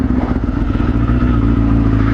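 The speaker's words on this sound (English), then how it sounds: "Oh, I love the way this bike sounds." A motorcycle engine runs loud and close, a deep throbbing idle with slight revving pulses and some mechanical clatter over about two seconds, no voices.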